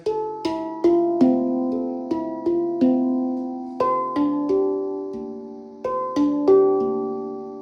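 Ringing metallic tones struck one after another, each note blooming and slowly decaying into a warm, bell-like resonance, played solo at an unhurried, flowing pace.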